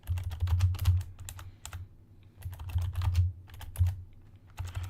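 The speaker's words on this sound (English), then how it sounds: "Why can't I type? Honestly, this is a new keyboard." Rapid clacking keystrokes on a new computer keyboard come in quick bursts with short pauses between them. The typing is close and steady, with no talking.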